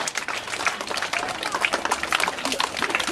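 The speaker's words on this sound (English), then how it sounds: "Welcome them by giving wonderful big clap" A school audience claps in a brief burst of scattered, lively applause, moderately loud throughout the short span.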